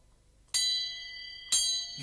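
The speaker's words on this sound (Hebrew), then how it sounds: "את יכולה לצלצל בפעמון כמה שאת רוצה" Two bright bell strikes about a second apart, each ringing on with sustained metallic overtones that slowly fade, close and clear in an otherwise quiet room.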